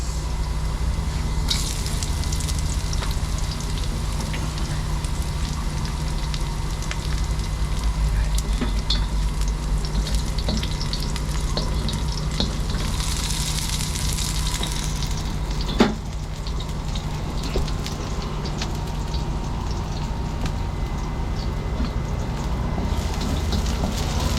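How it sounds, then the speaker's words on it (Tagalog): Onion sautéing in a frying pan while cooking sardines with sponge gourd makes a continuous sizzling hiss under a low background hum, with an occasional clink partway through. "brown brown na yan pwede natin ilagay yung ano sibuyas"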